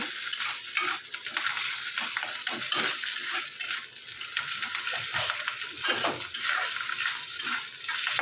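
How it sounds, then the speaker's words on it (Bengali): Fish roe fries in a pan with a bright, steady sizzle, and a utensil scrapes and clinks against the metal in irregular stirs close by. "মাছের ডিমটাকে খুব ভালো করে ভেজে নিচ্ছি"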